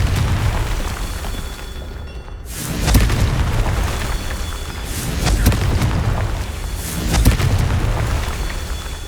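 Three heavy booming explosions from the Confringo spell in Hogwarts Legacy on PS5 arrive a couple of seconds apart over a loud continuous rumble, each burst swelling and fading.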